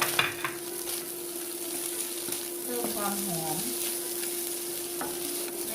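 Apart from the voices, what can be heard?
stir-frying carrot and onion for crab fried rice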